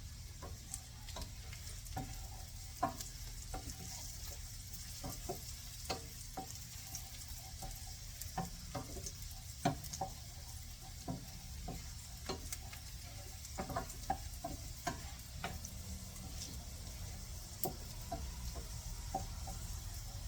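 Leftovers sauté in a pan for a wine gravy, giving a steady low sizzle broken by frequent light clicks and taps of a utensil stirring against the pan.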